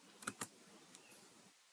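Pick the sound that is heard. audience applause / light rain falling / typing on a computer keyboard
typing on a computer keyboard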